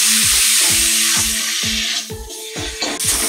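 Fish sizzles as it fries with spices and salt in a pan, a steady hiss broken by regular rhythmic scraping strokes as it is stirred, close and loud.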